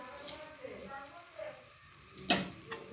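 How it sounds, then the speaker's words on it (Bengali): Lote fish stalks are stirred in a karahi of salted water, with soft scraping and gentle bubbling under a low simmer and a sharper clack of the utensil against the pan near the end. "একটু নেড়ে নেব"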